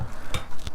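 Spaghetti stirred into an egg mixture for a pasta pie: two or three soft, wet squelching strokes in quick succession, close and quiet.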